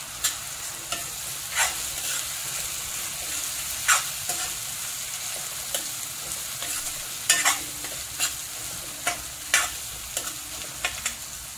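A spoon stirs ginger-garlic paste into chicken kofta curry masala sizzling in a pan, with steady frying hiss and regular scraping strokes close by, no voices.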